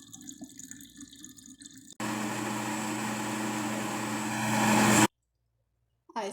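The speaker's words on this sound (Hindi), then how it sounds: "थोड़ा सा हमने इसमें मिल्क भी डाल दिया। मिल्क डालेंगे इसमें।" Milk poured into a mango shake mixture, a steady broadband liquid pour lasting about three seconds, growing slightly louder before stopping abruptly, with quieter kitchen sounds before and a short silence after.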